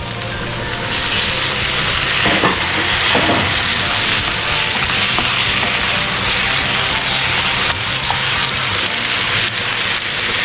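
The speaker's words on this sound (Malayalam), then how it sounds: "ഇപ്പോൾ നമുക്ക് ഇതിലേക്ക് അരിഞ്ഞു വെച്ചിരിക്കുന്ന തക്കാളി ചേർക്കാം." Chopped tomatoes added to sautéed onions in a pan for prawn drumstick butter masala set off a loud, continuous, close frying hiss with a few scraping stir sounds, and no one speaks.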